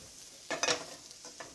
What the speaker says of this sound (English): 1/2 cup of chopped celery. Stir fry for 3 to 5 minutes.